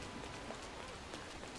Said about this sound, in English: it's also pouring rain